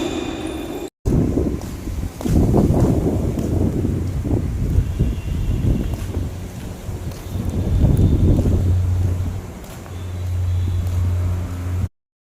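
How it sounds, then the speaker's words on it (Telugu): Strong wind roars steadily across the microphone, buffeting in gusts with a low rumble, no voices present. "ఇక్కడైతే గాలి చూసారా, అబ్బా ఏ రకంగా వస్తూ ఉందో"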